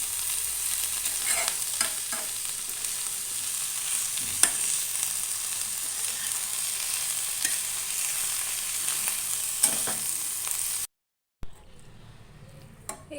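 Vegetable curry with paneer, capsicum and cabbage frying in a pan, a soft continuous sizzle with occasional scrapes and clinks of stirring, then a brief cut to quieter kitchen sound near the end.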